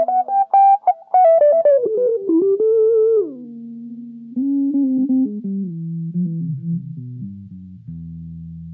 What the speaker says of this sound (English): Here, the guitar sounds almost like a sine wave.